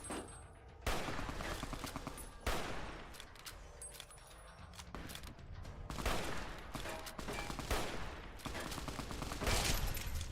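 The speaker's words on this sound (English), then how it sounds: "Oh, he's got a machine gun." Automatic gunfire in Fallout: New Vegas, long loud machine-gun bursts and rattling volleys repeating across the scene with short gaps between them.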